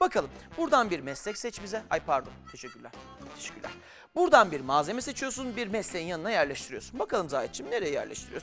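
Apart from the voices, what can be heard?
No everyday noise stands out behind the speech.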